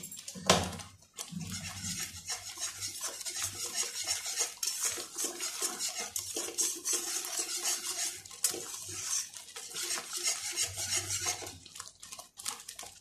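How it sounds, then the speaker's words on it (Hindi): A spoon stirs half a spoonful of red chilli into creamy white sauce in a pan for pasta, giving a steady run of soft metallic scrapes and clinks close up, with no talking. "हाफ चम्मच रेड मिर्च और इसे अच्छे से मिला लेंगे"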